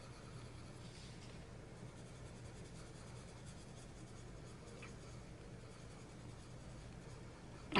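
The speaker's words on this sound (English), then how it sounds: "now we can come back with our Deco Pink and try to kind of burnish some of this out" A Prismacolor colored pencil burnishes Deco Pink over layered pigment on paper, a faint, steady soft scratching and rubbing heard up close with no talking, ending in a brief louder bump.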